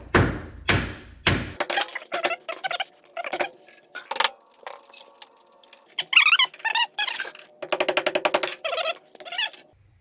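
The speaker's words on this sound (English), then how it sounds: "This bolt is super rusty, so leave the nut under the thread head, the bolt head, and just hammer it up and out." Repeated sharp metallic taps and thuds in uneven bursts as a rusty bolt is hammered out of a Toyota AE86 front bumper, some quick rapid strikes, close by with no talking.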